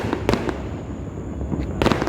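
Fireworks burst outside on New Year's, with two sharp bangs about a second and a half apart over a steady crackling, rumbling background at moderate distance.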